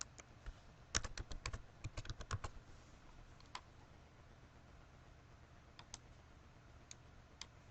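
Quick bursts of keystrokes on a computer keyboard as a search query is entered, a rapid cluster of crisp clicks followed by a few sparse taps, quiet and close.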